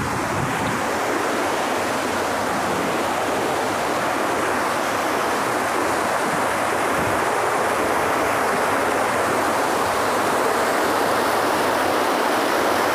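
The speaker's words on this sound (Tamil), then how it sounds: "இந்த ஆறில் போகிற தண்ணியோட சவுண்டு எப்படி இருக்குன்னு பாருங்கள்." A river in the Western Ghats swollen with rainwater rushes in a steady, loud, broadband roar that stays constant throughout with no other sounds.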